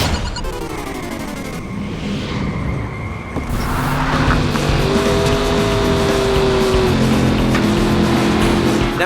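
NASCAR 09 stock cars in a racing video game roar loudly with steady engine drone, shifting pitch and tire squeal through a corner, continuous and close with no talk.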